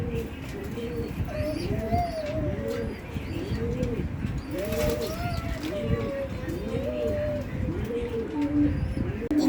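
Pigeons cooing repeatedly in a cage during a bath, rhythmic low coos close by with faint chirps over steady background noise.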